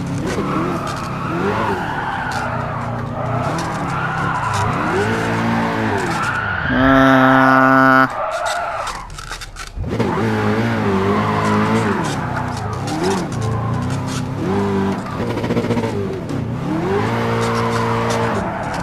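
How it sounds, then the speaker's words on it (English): A race car engine in Gran Turismo Sport VR whines and revs up and down continuously while drifting, with a short burst of squealing tires in the middle, then the engine drones on. "That's kind of drifting."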